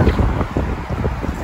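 Gusty wind buffets the microphone outdoors on a cold day in Seoul, a steady rumbling roar that stays loud and close throughout, with voices talking over it.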